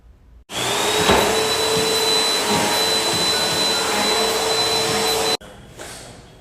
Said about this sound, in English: I'm about to vacuum and clean the rest of the house.